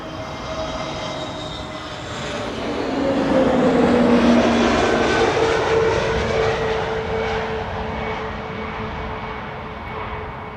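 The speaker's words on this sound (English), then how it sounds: "First up, SAS flight 1553 arriving from Stockholm." An SAS airliner arriving at Amsterdam Schiphol Airport passes as a loud, steady jet roar that swells to a peak and then slowly fades, with shifting engine whine tones and no voices.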